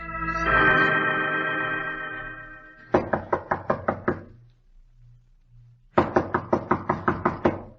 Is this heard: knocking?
yes